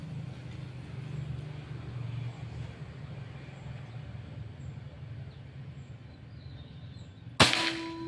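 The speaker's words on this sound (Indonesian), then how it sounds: "Tembakan keempat" A single sharp crack from a Pajerogun Gen 5 air rifle, loud and close, near the end after a long stretch of low steady background hum, with a brief ringing tail.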